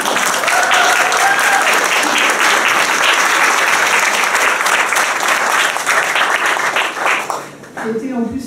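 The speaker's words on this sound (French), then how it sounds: "Je vous remercie dès à présent d'applaudir Céline." An audience at an art exhibition opening applauds a staff member in a long, dense burst of clapping that runs loud and steady, thins out near the end, and gives way to a voice starting to speak.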